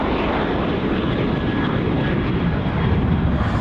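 An airliner departing runway 34 right at Sydney Airport; a loud, steady engine roar with broad rumble, heard close and uninterrupted, no talk.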